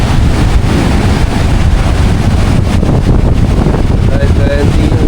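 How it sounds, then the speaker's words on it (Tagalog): Strong wind buffets the microphone over steady crashing sea waves on a Boracay beach during monsoon weather, a loud, continuous roar with no pauses. "ang lakas ng alon"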